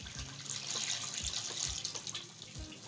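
Water poured from a glass into a pan of spicy egg korma gravy, a steady close gushing pour with small splashes, no talking.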